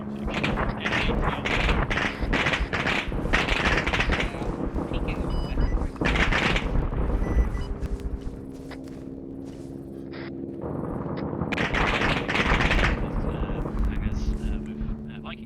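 Gunfire crackles through an Arma 3 stealth night operation in repeated bursts of sharp shots over a steady engine drone, while people talk over radio.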